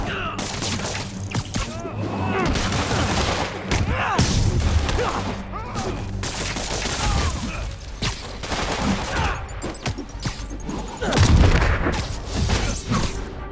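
Bursts of gunfire and impacts fill a street fight in the PlayStation Spider-Man game, with repeated shots, thuds and crashes layered over continuous action and occasional character voices.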